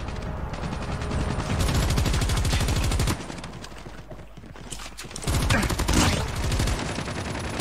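Rapid gunfire in the mobile shooter Call of Duty Mobile during a Cranked match, loud sustained bursts of automatic shots that break off briefly midway and then resume.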